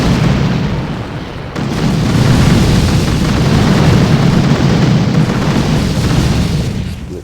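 Mines blowing up in the Boom Beach warships mode, a dense rumbling barrage of booms and blasts that runs loud and continuous, with a brief dip near the start before the roar swells back.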